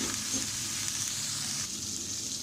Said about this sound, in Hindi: कलेजी को हम अच्छी तरह भूनेंगे।